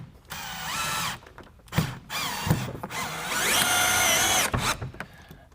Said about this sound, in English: we'll put another screw right up here in the top